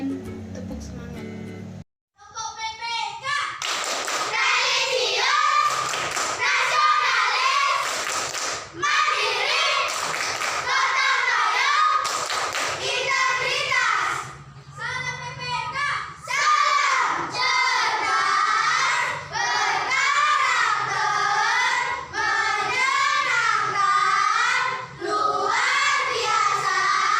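Schoolchildren in an Indonesian classroom perform a rhythmic class clapping and chanting routine, loud unison claps punctuating their shouted group chants, with bursts of voices throughout.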